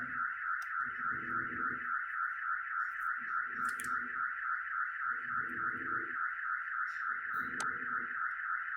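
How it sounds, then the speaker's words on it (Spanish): Alarm sounding outside a house: a steady, continuous high electronic tone runs the whole time, with separate lower rhythmic bursts repeating about every two seconds and a few sharp chirps layered on top. "se activó una alarma fuera de mi casa"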